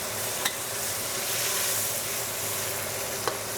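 Pork sizzles and hisses loudly in a hot pan for home-style yakisoba just after soy sauce is poured down the side, a dense continuous frying crackle close by with a couple of faint clinks.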